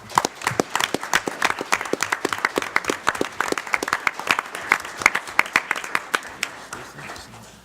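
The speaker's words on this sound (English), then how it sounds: "So I'd like to give them a round of applause for being here tonight." Audience applause at a township board of commissioners business meeting, a sustained round of many individual claps with distinct sharp hits, holding steady for several seconds before slowly thinning out.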